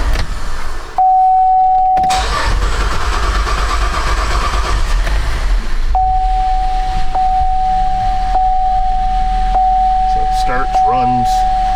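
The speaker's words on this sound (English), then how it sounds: "we're just gonna start it" A 2011 Buick Enclave 3.6 V6 cranks briefly, then settles into a steady idle with a constant whine on top, heard up close with occasional clicks.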